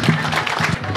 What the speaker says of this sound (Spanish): Un fuerte aplauso a todas nuestras mujeres.